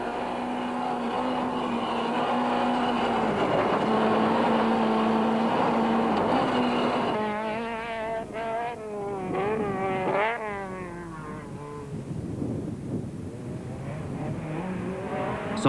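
Ford Sierra Cosworth rally car on a long, rough South African mountain stage, engine droning steadily then revving up and down in sharp bursts as the driver lifts and brakes over ruts and jumps, heard close from inside the car.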